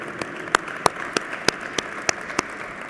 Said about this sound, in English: I think everyone should give each other a big round of applause